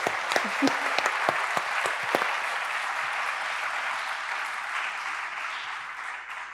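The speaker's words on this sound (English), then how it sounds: "express our thanks for the panellists' insights in the usual way with a beautiful round of applause" Audience applause thanking the panellists at a university International Women's Day event, opening with a few sharp individual claps and settling into a steady, moderate round that slowly tapers off.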